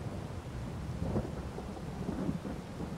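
Rain falls in the farming game Farming Simulator 22 while low thunder rumbles underneath, swelling in two soft rolls over a steady hiss of rainfall, with no talking.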